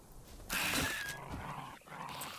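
A dog companion in the video game DYSMANTLE growls and whimpers over steady game sound, with a louder burst of activity midway through.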